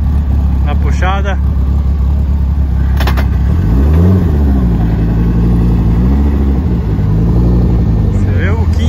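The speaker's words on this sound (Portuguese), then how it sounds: "rapaziada, Viper na puxada." A Dodge Viper with a V10 engine said to make 1,800 hp accelerates hard at a half-mile event, its loud engine roar rising and shifting in pitch over continuous noise, with voices heard amid the din.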